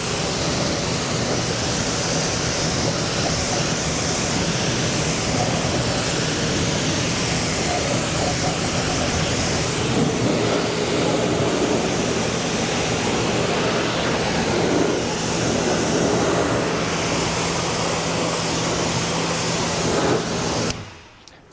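Steady, loud hiss of water spray rinsing the wheels and tires of a Rivian R2, continuous and close for about twenty seconds before cutting off abruptly.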